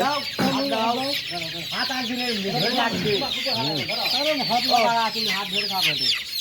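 Chickens about 32 days old cluck steadily and loudly at close range while they are held for a pox vaccine, with faint voices beneath the flock.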